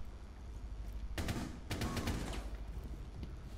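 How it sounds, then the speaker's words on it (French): Automatic gunfire in Rainbow Six Siege rattles in two sustained bursts, the second starting around the middle and trailing off, loud over a constant low background rumble with no talking. "Je sais même pas d'où ils tirent, hein, je les vois pas."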